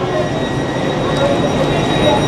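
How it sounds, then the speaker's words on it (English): Steady rumble and rolling rail noise inside a train running along the tracks in Edinburgh, loud and continuous throughout with no clear talk. "what's lovely about the train is it's very cozy and very smooth"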